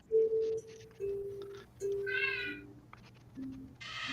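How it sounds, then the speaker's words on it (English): A cat yowls in a string of drawn-out, wavering cries, several loud calls in a row close to the microphone with short pauses between them and faint background music. "Kitty yells."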